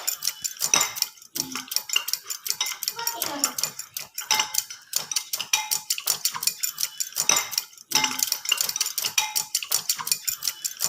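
Curd mixed with a little water in a bowl for Odia curd fish, with rapid rhythmic clinking and scraping of a spoon against the bowl, loud and close, continuing in steady bursts with brief pauses.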